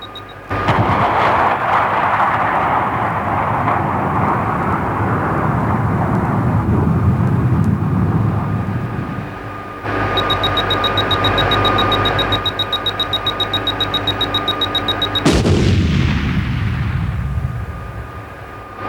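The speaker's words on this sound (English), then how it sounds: "This lethal wire-guided anti-tank missile uses a 5-inch warhead to bust its way through the thickest armor." A wire-guided TOW anti-tank missile fired from a Bradley fighting vehicle lets out a loud roaring rush that swells and fades, followed by a sustained mechanical drone with a thin high tone and a sharp final burst that trails off.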